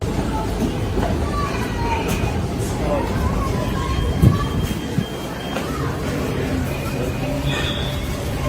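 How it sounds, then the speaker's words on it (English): A metro train rumbles steadily through a ride, with a constant low roar of wheels on rail, faint squeals and a few clunks, while indistinct crowd chatter murmurs underneath. "the Patriot Front, taking a ride on the metro"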